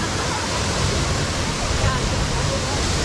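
Waterfall at Mukteshwar in Uttarakhand, with clear water running over visible stones, gives a steady, dense rush of falling water that stays close and constant throughout, with no breaks.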